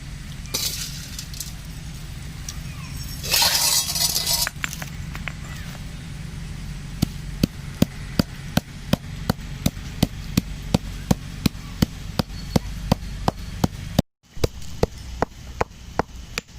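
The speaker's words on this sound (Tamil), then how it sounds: "இப்போ அதை கொண்டு போயிட்டு உரலில் போட்டு இடிக்க போகிறோம்." Roasted mushroom pepper ingredients pounded in a stone mortar in a village kitchen: a steady run of sharp, evenly spaced thuds grows clearer midway and continues at a regular pace, with a brief pause near the end.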